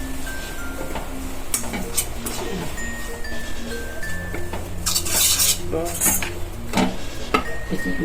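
Grated coconut being stirred and sautéed in ghee: a metal spoon scrapes and clinks repeatedly against the pan, fairly close and loud, while someone talks.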